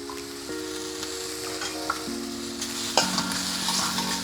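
Mushrooms sautéing with capsicum and coriander in a hot pan: a close, steady sizzle with repeated stirring scrapes and a few clicks, over a low steady hum, without speech.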